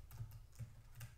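A few quick, soft keystrokes clack on a computer keyboard during malware analysis work, faint and close, in a brief rhythmic burst without voices.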